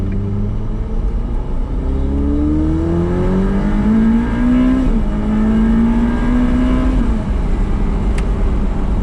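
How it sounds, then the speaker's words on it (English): A Ferrari F8 Spider engine revs and shifts under load, a loud, close rumbling roar whose pitch climbs, drops through a downshift and rises again, with a deep throaty exhaust note from inside the car. "Oh, I love that downshift."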